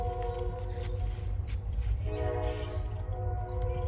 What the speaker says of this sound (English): oh, that damn train again